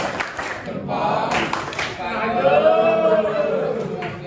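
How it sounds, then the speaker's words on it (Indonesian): Classroom of students doing a rhythmic thumb-clap (tepuk jempol) routine: short clusters of quick claps mixed with lively voices talking and chanting over them. "Kita akan tepuk jempol ya."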